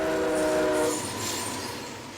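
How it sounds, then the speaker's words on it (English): A train approaches a road crossing with gates down, its horn blaring in a loud steady blast that fades after about a second, leaving the rumble of rail cars rolling past. "A train is coming."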